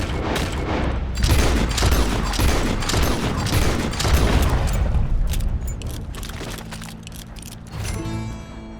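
Rapid gunfire in Red Dead Redemption 2 crackles in a dense, loud volley of overlapping shots, easing off into quieter rumbling toward the end.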